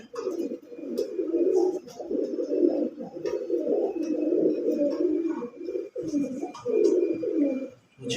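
Pigeons coo continuously in low, throaty, overlapping calls, fairly close, with faint clicks and rustling in the background.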